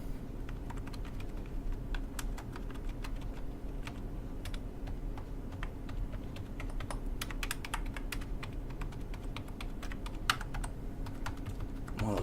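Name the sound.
typing on Blackweb slim low profile silent keyboard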